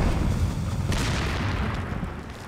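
Dynamite blowing up after being shot in Resident Evil 4, a heavy booming blast with a sudden sharp burst that rolls into a long rumbling decay, loud and close.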